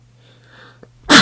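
A single sharp, loud sneeze bursts out near the end after a moment of near silence with a faint low hum.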